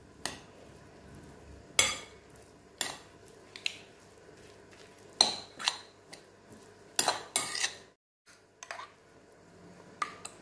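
A metal spoon clinks and scrapes against a bowl in irregular strokes while mixing parsley into ingredients, with soft squishy mixing between the sharper taps, close and fairly quiet.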